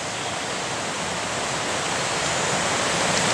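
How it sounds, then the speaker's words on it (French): Small cascades and waterfalls at a low point on the GR30 hiking trail near Saint-Nectaire give off a loud, continuous broadband roar of rushing water that fills the whole stretch without a break. "Quelques cascades, on est au point bas."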